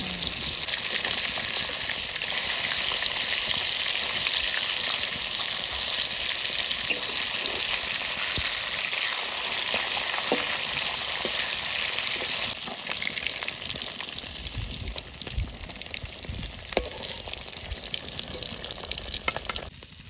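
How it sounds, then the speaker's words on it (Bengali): Large pieces of river glass carp frying in hot oil, a continuous loud sizzle and crackle with some splashing, steady for the whole stretch and easing slightly partway through. "তিন পিস দিয়ে দিয়ে ভেজে নিই মাছগুলো তেলে দিলাম"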